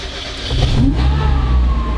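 A heavy drift truck engine, unused for months, revs up sharply close by, rising in pitch and then holding a loud, rough roar.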